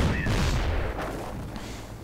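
Heavy gunfire and explosions from a real-time strategy video game battle, where an MG team sets up and a mine goes off. A dense, loud, rumbling barrage runs nonstop through the clip, and no one speaks.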